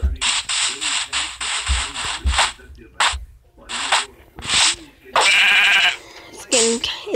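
In Minecraft Pocket Edition, sheep are struck with a sword, producing several short, rapid scuffing hit sounds followed by bleats. A person talks over the action.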